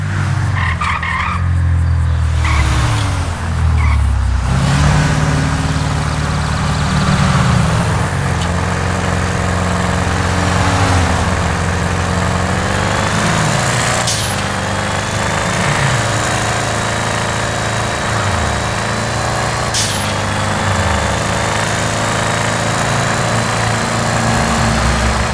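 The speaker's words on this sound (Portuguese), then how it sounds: "Eu vou deixar só vocês ouvirem aí como que é o som do carro. Assim quando ele tá trocando de marcha" In GTA 5 with a manual transmission mod, a car engine drones loudly and continuously, its pitch climbing and dropping as it shifts through the gears, with no talk.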